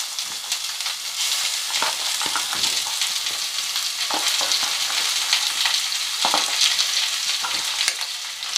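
Onions sizzle and crackle steadily in a hot pan for a mutton curry, a loud continuous frying hiss broken by occasional stirring scrapes, with no voices.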